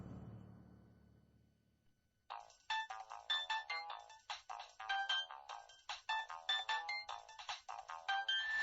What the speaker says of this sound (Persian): تلفنت زنگ بزند.